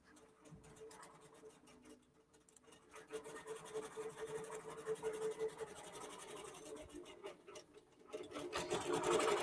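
A quilting machine stitches out a quilt with a soft, steady mechanical whir and a rapid ticking needle rhythm. It stays faint and even, then grows a little louder toward the end.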